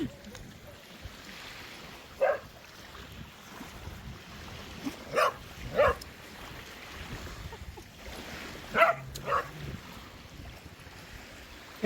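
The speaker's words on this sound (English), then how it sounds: "She's just got a loud bark." Several short, loud dog barks spaced irregularly over a steady windy outdoor background, some in quick pairs.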